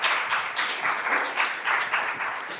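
A roomful of people claps steadily and continuously at a creative writing awards ceremony, a dense close wash of hand claps with gentle swells and no break.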